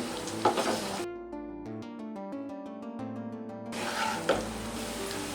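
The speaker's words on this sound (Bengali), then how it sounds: "এবারে আমি পেঁয়াজ, রসুন ও মরিচকে বাদামি করে ভেজে নেব।" Onion, garlic and broken dried red chilies frying in a pan until brown for beef kala bhuna give a steady close sizzle at the start and end, with a short musical passage covering the middle.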